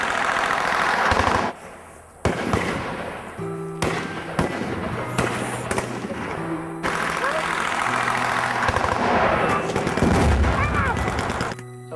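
Children fire a real firearm in repeated sharp gunshot bangs, loud and close, mixed with crackling bursts and some rapid fire, while adults speak between and over the shots.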